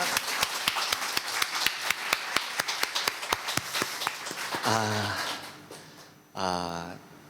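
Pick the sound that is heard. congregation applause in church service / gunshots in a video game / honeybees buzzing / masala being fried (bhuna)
congregation applause in church service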